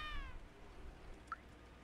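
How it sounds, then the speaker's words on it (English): A cat's meow in the video game Stray, one short, clear, rising call at the very start, fairly quiet over a soft ambient background hum, followed by a faint brief chirp. "Wait, who meowed?"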